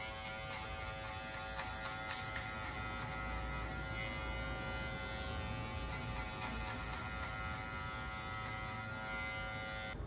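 Electric hair clippers fitted with a number 2 guard cut wavy hair in a barbershop fade. A constant close buzzing hum runs without a break, with no talk.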